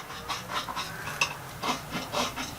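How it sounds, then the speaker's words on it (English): A flat file rasps back and forth across metal edges, knocking burrs off bolt-on hooks for a sub-compact tractor bucket. It makes a series of short, scratchy strokes in an uneven rhythm, close and fairly quiet. "You take a flat file and kind of do this a little bit"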